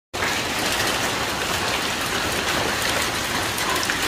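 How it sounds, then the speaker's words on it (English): Hail pelts down hard on a 1955 Chevrolet Nomad gasser, a loud, dense, continuous rattling patter that starts abruptly and keeps up with no letup. "That's hail."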